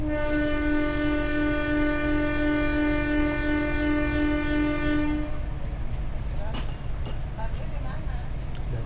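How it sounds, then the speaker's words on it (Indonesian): The Bogowonto passenger train departs Lempuyangan station in Indonesia: a loud sustained horn blares for about five seconds, then cuts off, leaving the low rumble of the moving train with faint clanks and some background talk. "Dan sekarang kereta api Bogowonto telah diberangkatkan tepat pukul 10"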